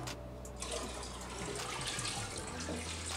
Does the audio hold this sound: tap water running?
yes